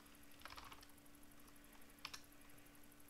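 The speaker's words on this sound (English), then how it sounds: "I'll just type it out." Quiet, steady typing on a computer keyboard while entering a JavaScript line into a popup box on Linux, two short flurries of clicks over a soft hiss and a constant high whine, no voices.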